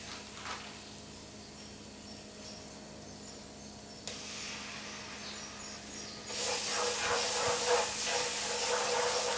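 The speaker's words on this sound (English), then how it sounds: "Cook out the essential oils of the spices in our oil" Spices sizzling in hot oil in a pan for an aloo gobi cauliflower and potato stir fry: a steady, close hiss that swells into a much louder, bright crackling sizzle partway through, no talk.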